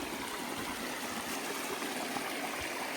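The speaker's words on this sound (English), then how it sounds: "This is our creek right here." Creek in Pisgah National Forest near the Moore Cove waterfalls, flowing with a steady broadband rushing and trickling wash, continuous and fairly close, no voices.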